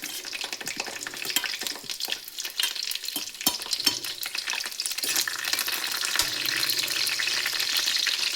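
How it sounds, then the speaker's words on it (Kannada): Curry leaves and green chillies hit hot oil already holding mustard and cumin seeds, giving a loud, steady crackling sizzle that swells toward the end, with stirring scrapes and no talking. "ಇವಾಗ ಇದಕ್ಕೆ ಕರಿಬೇವು ಸೊಪ್ಪು ಮತ್ತು ಹಸಿಮೆಣಸನ್ನು ಹಾಕ್ತಿದ್ದೀನಿ."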